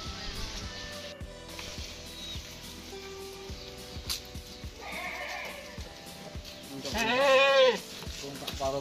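A pregnant goat bleats a few times, with a louder drawn-out bleat near the end, among other farm animal sounds and people talking nearby.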